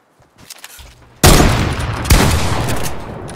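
Shotgun blasts in the video game Fortnite: a loud, abrupt boom erupts after a quiet stretch, then a second heavy shot follows about a second later, each decaying into a dense, roaring tail.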